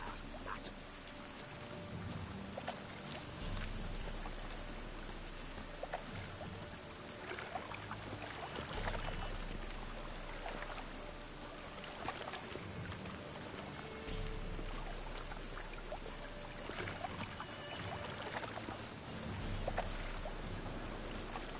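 Steady rain pours in The Witcher 3: Wild Hunt, a dense even hiss of drops on surfaces lasting throughout, with occasional low rumbles and no speech.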